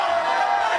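A studio audience at a TV news talk show discussing the New England versus Atlanta game erupts in a brief, loud burst of cheering and whooping, dense and sustained for under a second.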